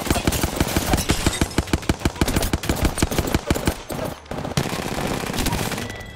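Rapid automatic gunfire in a video game shooter, with loud, dense bursts of shots that pause briefly and then resume.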